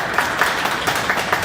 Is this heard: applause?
yes